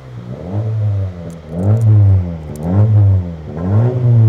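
Honda Civic FK 2017 1.5 turbo hatchback with an aftermarket Tigen centre-exit exhaust, revving loud and close in four repeated throttle blips, each rising and falling with a deep exhaust note, no talking.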